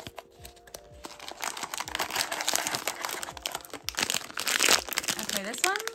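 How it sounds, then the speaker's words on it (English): Crinkly plastic blind box packaging being ripped open by hand, close and crisp, with repeated tearing and crumpling bursts that grow louder and peak near the end, with a person speaking. "This one doesn't seem to have a tear anywhere, so I'll just have to rip into it."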